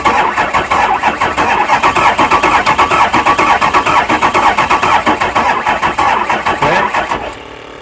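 A 2004 Ford 6.0 Powerstroke diesel, freshly swapped into a full cab with fuel lines still empty, cranks over loudly in a fast rhythmic chug for several seconds before the starter cuts and the sound drops away.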